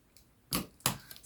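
Scissors cutting open a sturdy sealed plastic bag, two quick crisp snips close by, quiet and brief, with no talk.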